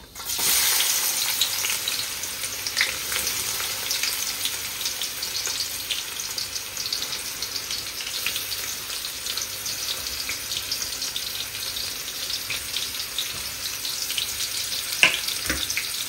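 Onions frying in hot oil in a pan, a steady hissing sizzle that continues throughout, close and even, with a few faint clinks along the way.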